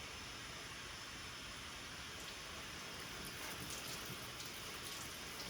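Soapy water sprays steadily onto the trunk lights of a VW Jetta, a constant hissing patter like heavy rain with no pauses, no voices over it.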